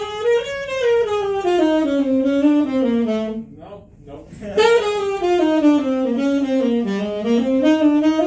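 A jazz line built on the Mixolydian scale flows as one continuous legato melody with smooth slides between notes and a brief pause in the middle, loud and close with no talking.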